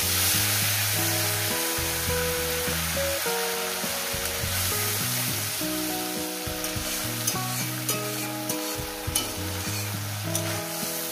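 Spice paste hits a hot pan with cumin seeds for a Bengali fish curry with vegetables, frying in a loud, steady sizzle with stirring scrapes throughout and no voices.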